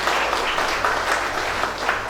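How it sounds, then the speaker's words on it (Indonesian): Steady applause from an audience at a youth organization event where a regent gives a speech, a continuous wash of many hands clapping at moderate loudness, with no voices over it. "Boleh tepuk tangannya buat Mas Ali."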